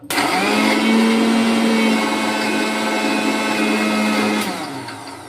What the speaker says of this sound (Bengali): ওই যে কাঁচা লঙ্কা আর বাদামটা পেস্ট করে নিলাম